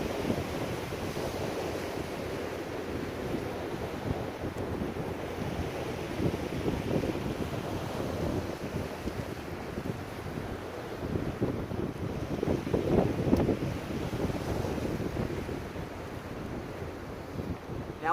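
Ocean waves wash and surge steadily at sea during a fishing trip, with broad continuous surf noise, wind buffeting the microphone and a faint boat presence, swelling louder near the end.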